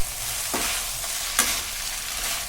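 Vegetable chowmein noodles with tomato sauce stir-fry in a pan, a steady loud sizzle broken by a couple of sharp scraping stirs, with no voices.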